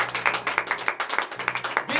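A church congregation claps in acclamation during a morning prayer service, a steady run of rhythmic handclaps filling the room at moderate loudness, with a faint voice underneath near the end.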